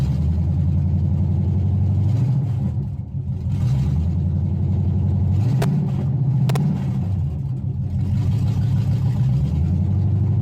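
A 1991 GMC Sierra throttle-body-injected engine idles at about 800 RPM while warming up, a steady low rumble with slight rises in pitch and two sharp clicks, close and alone.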